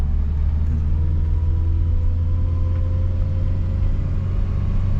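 A car engine hums with a steady, low rumble during a beginner driving lesson, holding an even, continuous drone at moderate loudness with no pauses.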